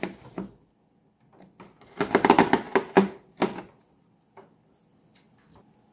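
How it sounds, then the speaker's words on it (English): Tape peeled off the Lexan body of a Traxxas X-Maxx 8S, a cluster of quick crackling rips in the middle with scattered soft taps before and after, close and without speech. "Then remove the tape."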